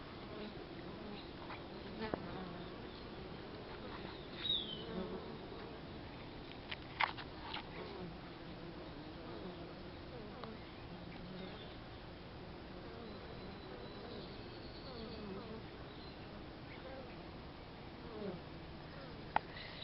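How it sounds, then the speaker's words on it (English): Bees hum softly and continuously at a distance, with a few faint knocks and rustles against a quiet outdoor background. "let's go ahead and look at the bees for a minute"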